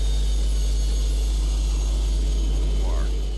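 MTT Y2K jet motorcycle powered by a turbine engine, giving a steady high-pitched turbine whine with a broad roar underneath, loud and close throughout, with a rising pitch sweep near the end.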